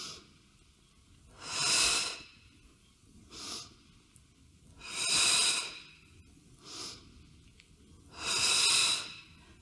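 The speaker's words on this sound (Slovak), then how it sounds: "Nádych a výdych, nádych a výdych" Deep breaths during a workout breathing exercise: three long, loud airy exhales alternate with shorter, softer inhales in a slow, regular rhythm, close to the mic with no talking.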